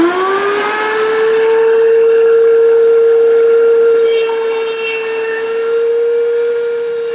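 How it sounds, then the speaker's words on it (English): A router table fitted with a quarter-inch round-over bit rounds the corners of a small square wood strip held by feather boards, a loud steady high whine spinning up and holding throughout. "So I've set up my router table with 1/4 inch rounding over bit and a couple feather boards to hold the stock in place."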